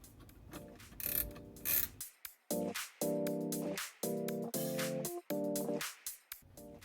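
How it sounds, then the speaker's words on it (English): A ratcheting wrench tightening display screen bolts inside a Tesla Model Y, close rapid clicking bursts in short repeated strokes with brief pauses between them, no voices. "since it's such a tight squeeze, we're going to use my ratcheting wrench"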